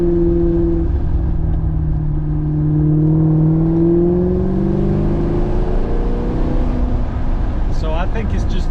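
A Maserati GranTurismo engine revs loud and close, its pitch climbing and falling in long continuous sweeps as the throttle builds, with a brief rattle near the end.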